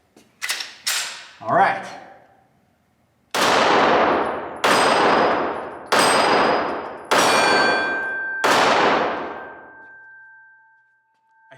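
Canik TP9SA Mod 2 9mm pistol fired outdoors: a few quick pops early on, then five loud evenly spaced shots with ringing decay, and a brief spoken phrase in between.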